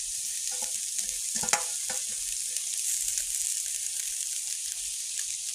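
Ginger paste sautés in a pan with a steady sizzle and a few stirring scrapes, one sharper knock near the middle, heard alone at moderate level.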